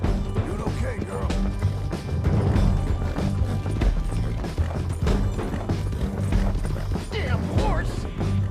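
Horse hooves thudding in Red Dead Redemption 2, a dense clatter of hoofbeats mixed with knocks and bumps, a whinny here and there, and voices speaking over the busy game sounds.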